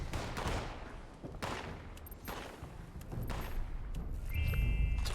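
Gunfire in the video game Fallout 76 during daily challenges: rapid repeated shots in a dense volley over a busy background, a few loud bursts standing out, then a sustained low rumble and a brief electronic tone near the end.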